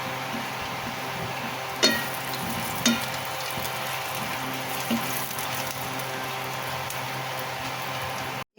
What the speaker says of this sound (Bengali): শুকনো মরিচটা ভেজে নিচ্ছি।